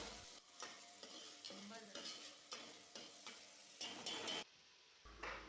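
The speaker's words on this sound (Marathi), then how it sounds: "आता हे चांगले तेल सुटेपर्यंत परतवून घ्यायचे आहे।" Tomato, ginger and garlic paste sautéed in oil for chicken masala, a soft steady sizzle broken by rhythmic scraping stirs every second or so, close but quiet, with no talking.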